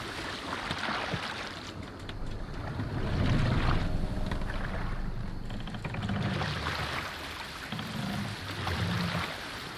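A boat sailing in Assassin's Creed Valhalla, with steady wind and rushing water swelling and easing in slow surges, carrying along continuously without any voices.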